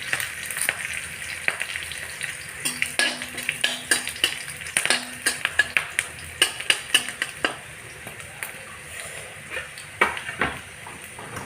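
Onions and a bay leaf fry in a little oil for Assamese boot dal, a continuous sizzle under frequent spoon scrapes and clanks against the pan, close and fairly loud.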